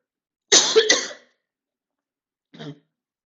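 A single harsh cough up close, followed after a pause by a second, softer throat-clearing cough.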